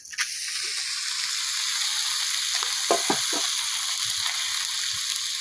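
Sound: frying bata fish in a pan

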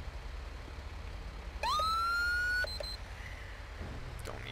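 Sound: police car siren in video game GTA V

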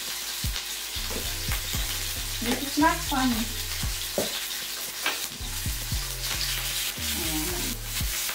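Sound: food frying in oil

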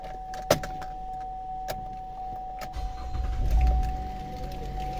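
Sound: Chevrolet Traverse 2014 car, ignition switched on

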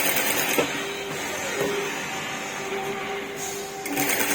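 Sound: sewing machine stitching lace onto blouse fabric

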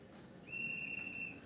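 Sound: guard's whistle sound effect from Bachmann Thomas DCC model train

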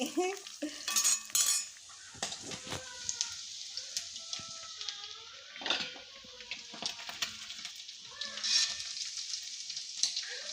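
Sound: chicken frying in oil

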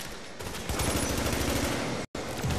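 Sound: turrets firing in The Division video game

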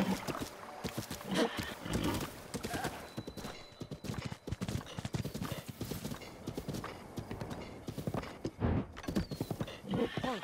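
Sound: horse hooves clip-clopping in the video game Zelda: Breath of the Wild

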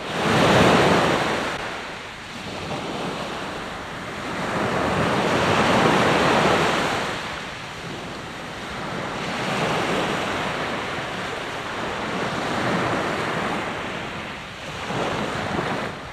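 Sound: sea waves breaking on the shore

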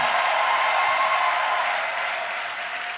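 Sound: crowd acclaim and applause

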